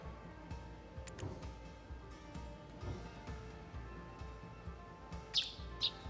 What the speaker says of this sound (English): Shoo, you silly bird!